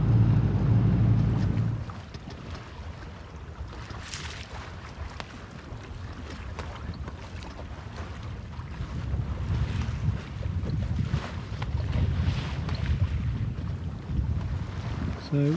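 Sailboat crossing the Thames Estuary on a glorious day, pushing against the last of the ebb toward a sandbank: steady wind buffeting the microphone over a low rush of water and waves along the hull, with no voices.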